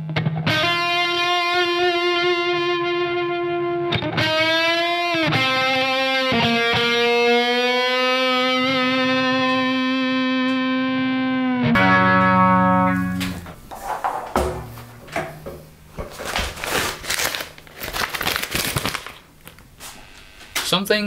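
A loud, heavily distorted electric guitar plays a sustained solo with long bending notes, then breaks into choppier, rhythmic playing.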